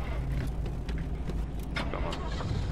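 A car engine starting and running in the video game Pacific Drive, a steady low rumble that fills the clip at moderate loudness, with brief mechanical clicks on top.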